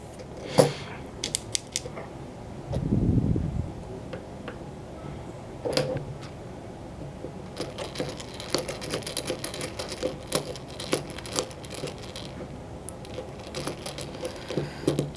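Metal end cap being threaded onto a Medeco challenge lock, a long run of close, faint clicking, creaking and scraping with a brief low rumble early on and no talk.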